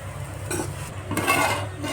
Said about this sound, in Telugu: కొంచెం మిల్మేకర్కి కారం వచ్చేటట్టు కలపండి